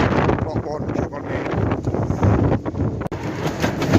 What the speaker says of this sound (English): I hope you can hear us okay because it's proper windy